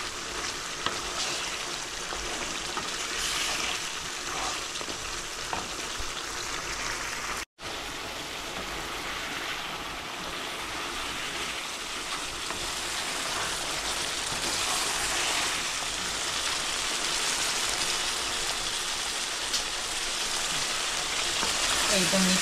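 Meat marinated in yogurt frying and being sautéed in a pan, a loud, dense, continuous sizzle that runs throughout with a brief cut partway, stirring faintly audible underneath.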